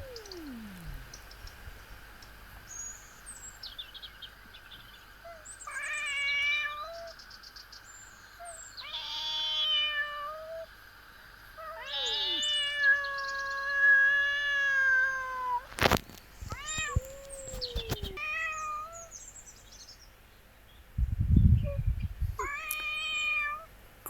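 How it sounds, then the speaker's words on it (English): A cat meows and yowls repeatedly in long, wavering drawn-out cries, close by, with brief quiet gaps and a few thumps between calls. "Nothing happens here, but Grey Cat has to have his say"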